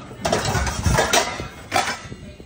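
Dishes and cutlery are set one by one into the racks of a Bosch dishwasher, giving a few close, sharp clatters and clinks of crockery spaced irregularly over a soft background.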